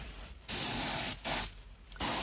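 Paint spray hisses onto the back of a leather Jaguar XK8 steering wheel during restoration, three loud bursts with short pauses between them, and no speech.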